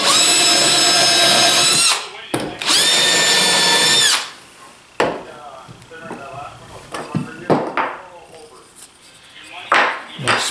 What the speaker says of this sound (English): Now I'm just going to press down and drill my pilot hole here.